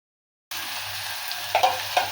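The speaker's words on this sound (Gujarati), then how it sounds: "મરચાને થોડાક છે ને આપણે તળાવા દેવાના છે" Chopped green chillies frying in hot oil for samosa filling, a steady close sizzle with a few stirring scrapes near the end.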